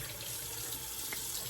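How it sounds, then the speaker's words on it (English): Cold water runs steadily from a tap for rinsing during a shave at a barber's sink, a soft continuous hiss with no talking over it. "now I'll switch to the hot water, which is the cold water"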